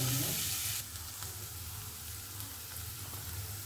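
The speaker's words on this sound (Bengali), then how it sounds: "রসুন আর আদা কুচিটা ভাজা হয়ে এসছে, এবার সবজিগুলো।" Vegetables hit a pan of fried chopped garlic and ginger and sizzle steadily. A brief louder burst comes at the start, then a soft, even frying hiss continues under a low background hum.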